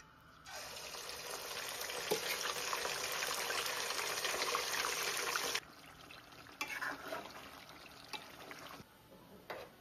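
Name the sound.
chicken frying in oil for chicken pickle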